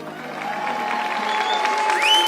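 Audience applause from a crowd at a 4L Trophy 2024 gathering, a dense steady clapping wash that swells slightly toward the end, with faint tonal sounds above it.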